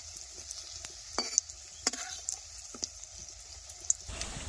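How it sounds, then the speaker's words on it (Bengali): Egg and potato fritters fry in oil in a pan with a continuous close sizzle. Scattered clicks and scrapes suggest a spoon moving them around. "মিডিয়াম মাঝে ভাজতে হবে নাহলে লাল লাল হয়ে যাবে"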